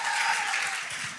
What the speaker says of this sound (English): Beautiful. Applause.